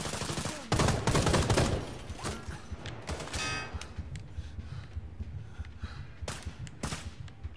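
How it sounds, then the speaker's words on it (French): Gunfire in Sniper Ghost Warrior 3 near a dump entrance: a loud burst of shots early on, then scattered sharp cracks and distant pops over quieter ambience. "Je sais pas qui m'a tiré dessus, mais il y a quelqu'un qui m'a tiré dessus."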